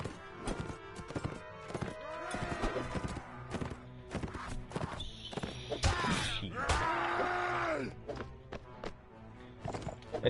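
A horse in the video game Mount and Blade gallops along in uneven clip-clop hoofbeats, fairly close and quiet, with scattered clanks and effects around it.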